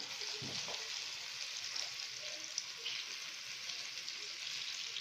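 A cauliflower and egg omelette fries in oil, a steady, moderately quiet sizzle with soft crackling and faint low bumps early on, no voices.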